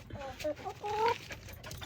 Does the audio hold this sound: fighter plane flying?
no